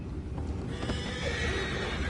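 Horses in the Red Dead Redemption 2 video game whinny loudly and clearly over a steady ambient bed, with hooves clip-clopping underneath through the short stretch.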